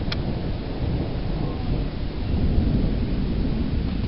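Thunder rumbles continuously during a slow-moving lightning storm in the Lehigh Valley, a deep, loud roll with rain hissing steadily underneath and no voices.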